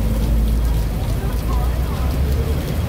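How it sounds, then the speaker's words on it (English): Heavy typhoon rain pours steadily onto a road in Causeway Bay, Hong Kong, a loud, dense hiss with a low rumble beneath that continues unbroken throughout. "Heavy rain because of typhoon guys."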